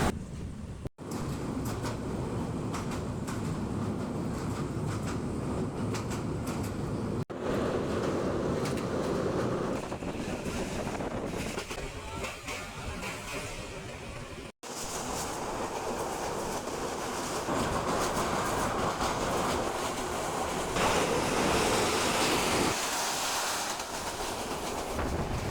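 A passenger train travelling to Chittagong, Bangladesh, gives a continuous loud rumble with steady rail noise for the whole stretch, broken by a couple of brief dropouts and no talk.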